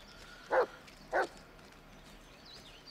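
A dog in The Blair Witch video game gives two short, clear barks about half a second apart over a quiet, eerie ambient background.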